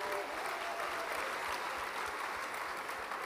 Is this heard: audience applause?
yes